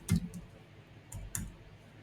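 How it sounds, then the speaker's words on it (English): A few light keyboard key clicks while a password is typed, faint and sparse over two seconds in a quiet room. "let me type the password here"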